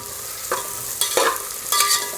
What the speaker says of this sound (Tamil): அது கூடவே கட் பண்ணி எடுத்து வச்சுருக்கிற வெங்காயம் அதையும் சேர்த்து நல்லா பொன்னிறமாக ஆற வரைக்கும் வதக்கி எடுத்துக்கலாம்.